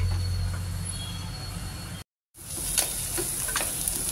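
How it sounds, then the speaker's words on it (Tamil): Onions sautéing in a pan for a hotel-style vegetable kurma, a steady broadband sizzle and crackle that runs throughout, broken by a brief cutout in the middle before the frying hiss resumes. "வெங்காயம் நல்லா வதங்கியாச்சு."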